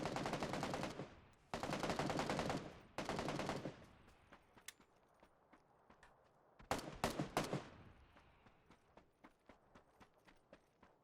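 Bursts of automatic gunfire in PUBG on Xbox Series X, three long loud volleys followed by quieter scattered shots and a final cluster of sharp close reports.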